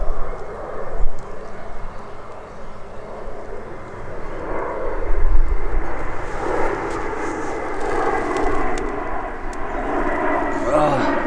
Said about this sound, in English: Of course, a passenger jet flies right overhead.